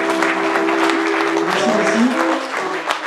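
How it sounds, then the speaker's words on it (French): A seated audience at an evening event against homophobia applauds in a steady, dense wash of clapping, with a voice speaking over it throughout. "D'ailleurs, on va tous vous applaudir."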